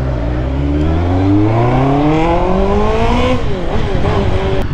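A Honda CB650R motorcycle with an Ixil Carbon Extreme exhaust and silencer revs hard, its engine pitch sweeping steadily upward for several seconds before dropping back, loud and close.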